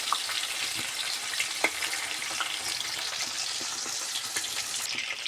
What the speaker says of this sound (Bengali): মাংসটা একটু ভাজা হয়ে গেছে, আমি এবার উল্টিয়ে দিলাম।